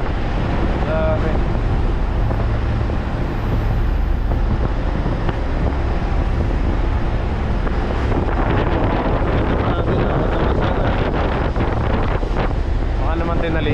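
Heavy wind at sea batters the microphone in a continuous loud roar on a small boat, with water splashing and low rumble underneath and occasional voices mixed in.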